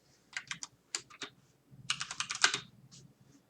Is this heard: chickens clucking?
no